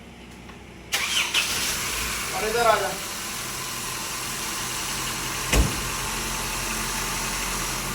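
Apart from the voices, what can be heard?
car engine starting and idling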